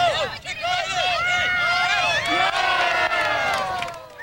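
Crowd cheering at a children's soccer game, with a parent among the spectators: overlapping high children's shouts and excited voices rise and fall continuously, close and loud, forming a lively babble throughout.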